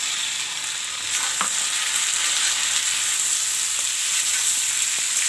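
Tomatoes fry in a pan with cashews, onions and spices for dhaba-style butter chicken, giving a steady, bright sizzle with occasional stirring clicks, close and continuous with no voices.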